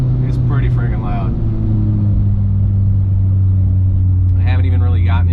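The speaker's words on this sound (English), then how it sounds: "I'm going to do a little downshift here so you can hear it" A car engine downshifting produces a loud, steady low rumble and drone that fills the whole stretch, with brief voices audible near the start and end.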